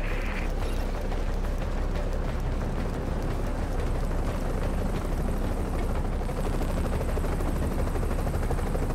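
Helicopter in The Division video game settling in to land, a loud, steady rotor roar and turbine wash filling the whole stretch without pause, with faint clatter mixed underneath.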